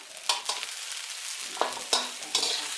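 Marinated pork and dry-style sukiyaki being stir-fried in a pan, with a steady close sizzle and several sharp scraping strokes of a spatula at irregular intervals.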